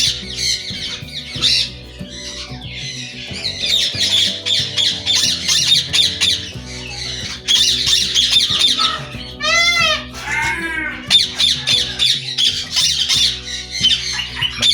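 A breeding pair of ringneck parrots squawks loudly and repeatedly at close range, harsh shrill calls coming in bursts over a steady low background hum.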